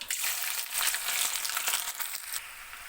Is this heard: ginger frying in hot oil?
yes